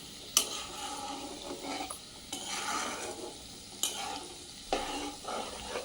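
Prawn pickle is mixed in a pan of hot oil. Repeated bursts of scraping and sizzling come from stirring, each opening with a sharp clatter, close and moderately loud, with no talking.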